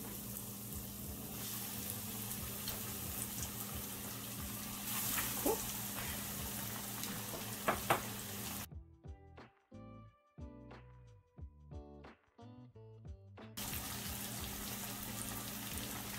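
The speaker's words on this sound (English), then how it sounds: "Once the oil is hot, place the fish in the pot." Fish fries in hot oil in a pot, giving a steady crackling sizzle for the first half, then a quieter stretch of scattered sharp pops and spits before the sizzle returns.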